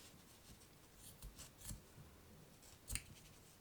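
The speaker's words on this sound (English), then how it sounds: "grab the scissors and cut here" Scissors snip through crochet yarn in a few quiet, separate cuts, the clearest near the end, against a hushed background.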